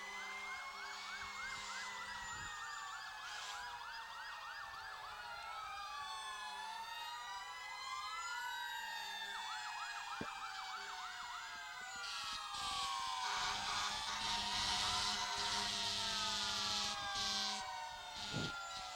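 Sirens from three fire trucks of Wayland passing in a July 4th parade in Natick, wailing and yelping continuously at moderate distance for the whole stretch, with some engine rumble and no talk.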